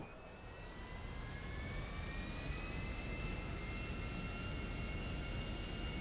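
Steady jet aircraft roar, an airliner descending toward a runway in a GTA roleplay game, a broad constant engine rumble with whining high tones rising slightly, loud and sustained without speech.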